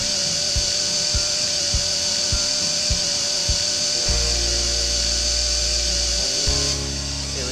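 A Makita power drill rigged as an electric fishing reel for swordfishing, giving a steady whirring motor drone with a series of short rhythmic clicks, then a louder sustained low hum near the end.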